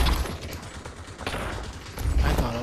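Revolver shots in a video game, a few sharp bangs over continuous busy game action, the louder hits near the start and again toward the end.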